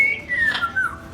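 A pet bird whistles on command, giving a few thin, clear whistled notes up close over a quiet background.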